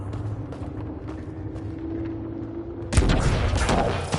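Gunfire aimed at a rock in Mass Effect Andromeda, played on PS4: a sudden loud burst of dense, rattling shots erupts after a stretch of quieter game ambience with a steady hum, continuing through to the end.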